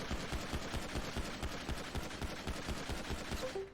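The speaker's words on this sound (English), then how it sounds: "This is the base gun." A base gun firing in a video game, a steady stream of rapid, evenly spaced shots, loud and close, cutting off near the end, with no talking.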